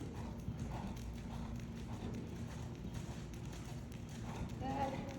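A heavy horse's hooves clip-clop rhythmically on an arena surface during riding transitions, steady moderate beats under a rider or trainer talking nearby.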